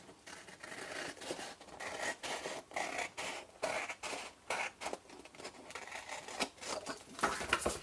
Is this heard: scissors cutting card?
yes